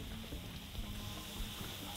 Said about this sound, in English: This is called malbi, and it's sizzling away on those rocks.